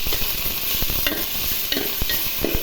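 Onions and green chilies sizzle steadily in hot oil while a spoon scrapes and stirs through them, a continuous close hiss with small scraping knocks.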